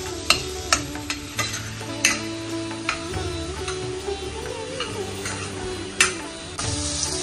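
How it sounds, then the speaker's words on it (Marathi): Tomatoes sauté in hot oil in a pan for a Nagpuri popat bhat, with a steady sizzle and repeated clinks and scrapes of a spoon stirring against the metal. "आता थोडंसं 1-2 मिनिटं या टोमॅटोला परतवून घ्या."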